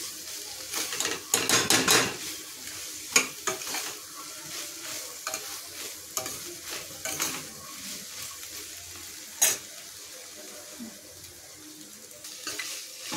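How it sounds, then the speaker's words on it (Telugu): Spicy chickpeas being stirred in a frying pan, a utensil scraping and clinking against the metal in irregular bursts over a soft, steady sizzle, close and fairly quiet, with no voices. "మళ్ళీ మిక్స్ చేయాలి. మిక్స్ చేసి ఒక 1 మినిట్ వరకు ఉంచుకోవాలి."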